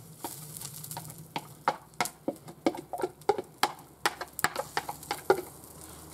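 Four ordinary onions frying in a pot for a bean goulash, a faint sizzle broken by repeated sharp clicks and scrapes of stirring at a quick, uneven rhythm, close by with no talk.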